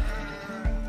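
A goat on a farm in Botswana gives a short, close, wavering bleat that lasts under a second, with no voices over it.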